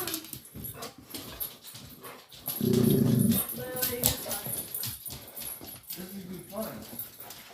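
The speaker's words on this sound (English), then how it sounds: "Hey, no barking." Dog sounds in a home, with a loud burst of yipping or barking near the middle among scattered whimpers, mixed under ongoing people talking nearby.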